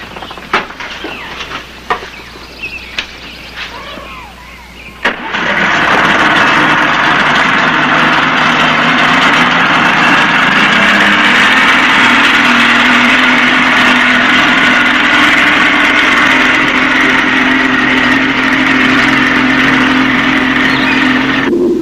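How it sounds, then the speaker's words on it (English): Quiet clicks and rattles precede a small engine abruptly starting, then running loudly and steadily at a constant buzzing idle until the end. "Now you start your engine."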